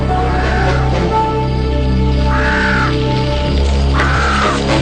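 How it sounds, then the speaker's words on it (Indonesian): Three loud crow caws spaced a couple of seconds apart, each a harsh drawn-out call over a low steady hum. "Jak, suara burung gagak, Jak."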